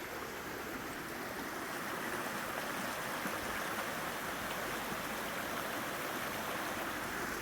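Steady broadband rush of flowing water in Hayden Creek, heard from a bridge, continuous and fairly loud throughout with no breaks or voices.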